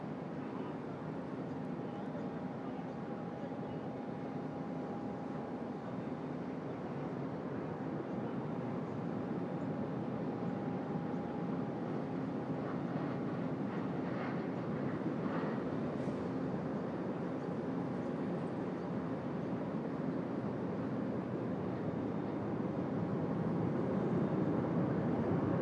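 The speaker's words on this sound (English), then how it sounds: "Our second Emirates A380 of the morning. Geez, they always come in nice and heavy as well." An Emirates Airbus A380 comes in to land heavy at Sydney Airport, its engine roar steady and gradually building louder, a sustained whine riding on top.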